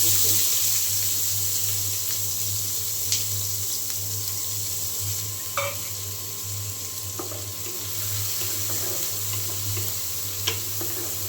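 Onions frying in a pan after eggs were fried, a steady soft sizzle with occasional stirring clicks and scrapes, moderately close with no talking.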